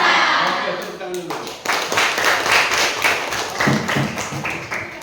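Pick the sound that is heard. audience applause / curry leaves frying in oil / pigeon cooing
audience applause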